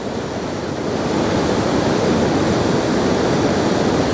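The Lepenci river rushes beneath the Doganaj bridge near Kaçanik after heavy rain, a loud, dense, unbroken roar of flowing water.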